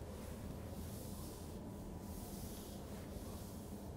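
Writing is rubbed off a classroom board with a continuous, faint, even scrubbing sound, with no pauses and no talking.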